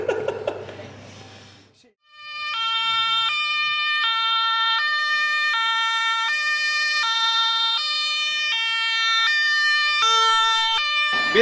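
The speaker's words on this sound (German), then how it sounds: "der Rettungswagen ist da" After a moment of laughter and chatter, a loud two-tone ambulance siren takes over, alternating pitch in a steady, regular rhythm close by, at the Ukrainian border.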